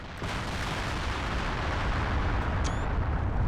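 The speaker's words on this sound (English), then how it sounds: "You got artillery, massive artillery everywhere, and you got these fucking rad-ass fucking bombardments going down." Artillery bombardment in the Men of War game with the RobZ Realism mod, a rumbling wall of distant explosions rolling steadily, with a sharp crack near the end.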